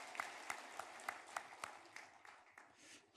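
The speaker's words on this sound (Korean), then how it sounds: "다시 한번 우리 힘차게 하나님 앞에 영광의 박수를 한번 드리겠습니다." A church congregation applauds during a Sunday service. A few distinct, rhythmic claps stand out within a soft, scattered applause, heard at some distance in a reverberant hall.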